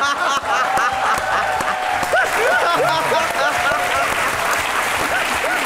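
Studio audience applause fills a Marathi edition of the Aap Ki Adalat courtroom-style talk show, a steady dense wash of clapping throughout with voices talking over it.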